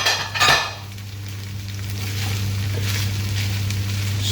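Egg fried rice with coriander sizzling in a pan while being stirred, with a clatter of utensil against the pan at the start, then a steady, close frying hiss over a low hum.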